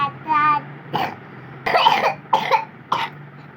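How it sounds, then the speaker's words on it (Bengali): A child coughs in four or five short, harsh bursts spaced about half a second apart, close and fairly loud, after a brief vocal sound at the start. "ইস রে তোর কাশি হয়েছে"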